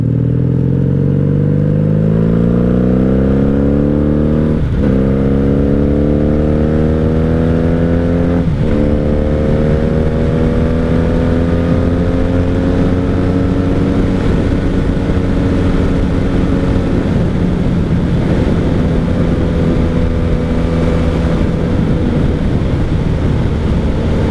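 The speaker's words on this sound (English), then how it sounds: "Vance and Hines pipes on the back, so that's what you're hearing." A 1997 Honda Magna 750 motorcycle with Vance and Hines exhaust pipes rumbles loudly while riding, its engine note climbing through gears with brief dips at each shift, steady and close throughout.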